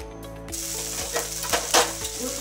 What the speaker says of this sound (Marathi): तेल तापल्यानंतर वाटलेले वाटण कढईमध्ये टाकले।